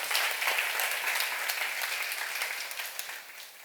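Dense, sustained applause fills a seminar hall as an audience at a church teaching session on John 16–17 claps steadily, the sound staying full and close before easing slightly at the end.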